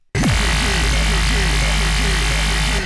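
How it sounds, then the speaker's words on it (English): Electronic dance music build for the first half of a fake drop, with a heavy sustained sub-bass and swooping laser-like synth zaps repeating over a dense, loud wash of sound, no drums yet. "This is already a really good start for the first half of the fake drop"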